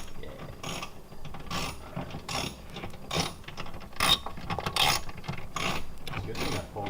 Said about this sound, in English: he's ratcheting and being weird about it